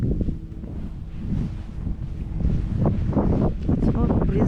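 Strong wind buffets a microphone outdoors in fresh snow cover a few days after a snowstorm, a loud continuous low rumble that swells and gusts toward the end.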